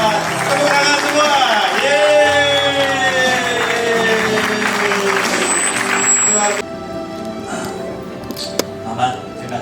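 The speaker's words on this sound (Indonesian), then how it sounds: "Tepuk tangan semua." Church congregation at a wedding ceremony clapping and cheering loudly for the newly married couple, dense applause with whoops and shouting that cuts off abruptly partway, followed by quieter room sound.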